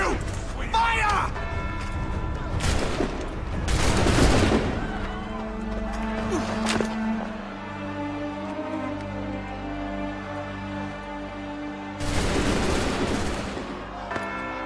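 A few loud, sharp musket volleys crack out during an Assassin's Creed 3 cutscene, spaced bursts with lingering rumble and voices talking between them.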